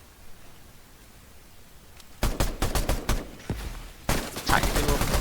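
Rapid gunfire from a Fortnite match in a Simpsons-themed Springfield mode, starting after a quiet stretch as sharp volleys of close shots, a brief pause, then another dense burst near the end.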